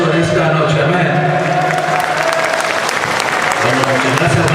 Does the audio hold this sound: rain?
no